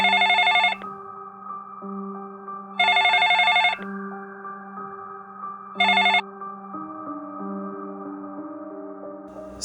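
A telephone rings in three separate electronic bursts, evenly spaced over a low steady background tone, close and fairly loud with no one speaking.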